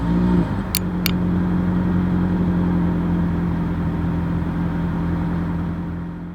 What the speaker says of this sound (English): Keep in mind, this is a hybrid. I'm not sure this is going to work, but as always, here is that exhaust clip.